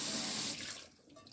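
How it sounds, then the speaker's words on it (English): Tap water runs steadily into a sink while cast iron dishes are rinsed, a broad splashing rush that is loud at first and then thins to a quieter trickle. "after I rinse them with water and wash it down with just a scrubby and water"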